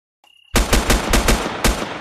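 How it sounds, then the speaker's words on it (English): AK rifle fire in a first-person shooter game (CS:GO, PUBG or Rainbow Six), heard as a short, loud burst of rapid automatic shots right after a faint ticking, with no talk. "We're going to go and slay him with my AK."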